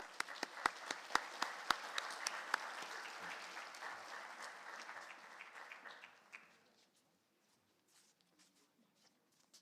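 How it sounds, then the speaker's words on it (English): An audience in Prince Albert applauds the Riverside Jigging Club, a few sharp individual claps up front leading into a full round of clapping that fades out after about six seconds, leaving near silence. "Let's give them a warm round of applause,"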